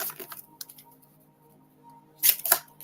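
Oracle cards being shuffled, with a few soft riffling clicks early on, a quiet pause, then two sharp louder bursts of card snaps near the end.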